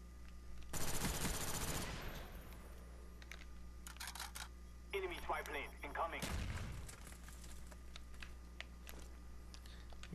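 Gunfire in a first-person shooter, a free-for-all match to 50 kills, with a dense burst of shots near the start, more bursts through the middle and another heavy volley around six seconds, all over constant game ambience.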